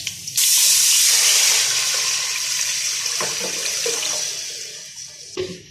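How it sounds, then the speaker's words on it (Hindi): Two to three cups of water pour steadily into a cooking pan with a bright rushing hiss for several seconds, then clink and settle as the flow stops. "इसके अंदर 2 से 3 कप पानी ऐड कर लेंगे"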